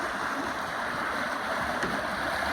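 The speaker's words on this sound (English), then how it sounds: "this is Murch's bubbler, which he's lent us to put in our own slip," A dock bubbler circulates water in an icy boat slip beside a moored boat, a steady, soft, churning hiss of agitated water heard close, with no talking.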